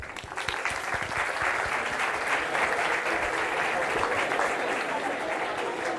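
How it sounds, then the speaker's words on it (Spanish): A crowd applauds steadily and loudly for several seconds, a dense wash of clapping hands with no pauses. "Un aplauso para vosotros."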